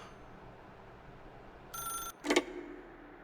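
A telephone in The Stanley Parable video game rings alone in a quiet room: one bright electronic ring burst followed by a short, louder clattering tone, close and clear with no talking.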